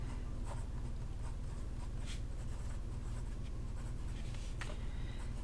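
A Pilot 823 fountain pen with a medium nib scratches steadily across paper in soft, continuous strokes with small pen lifts, close and quiet, with no talk.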